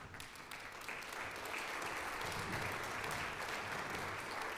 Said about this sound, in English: So if we could all give a big round of applause for the famous, well, yes, chamber winds